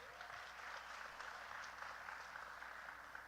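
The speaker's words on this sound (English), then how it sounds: "Please give her a round of applause." An audience claps for a panelist at a Divine Nine discussion event, a steady wash of applause that sounds moderately distant and continues evenly throughout.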